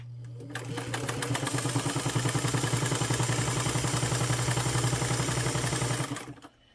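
A 1927 Singer 99 sewing machine stitches through about 1.5 mm thick suede, a fast, steady mechanical clatter that runs for roughly six seconds, then stops abruptly.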